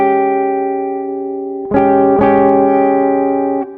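PRS electric guitar played with its tone knob turned fully down, giving a dark, rounded sustained chord that rings, then two fresh strums hit firmly and hold before cutting off, with light effects and reverb around it.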